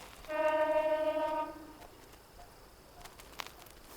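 A train horn at Boparai railway station sounds one sustained, harmonically rich blast for about a second, then cuts off, leaving faint background noise and a few clicks.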